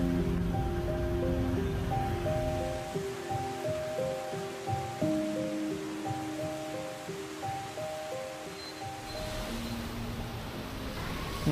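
Heavy rain pours down in a sudden burst over Ho Chi Minh City, a dense, steady hiss of falling water mixed with a low rumble beneath a faint background tone.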